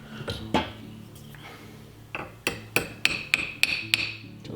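Sharp metallic hammer taps seat an ejector into a 1911 pistol frame, a few scattered at first, then a quick series of evenly spaced strikes, close and fairly loud with no talking.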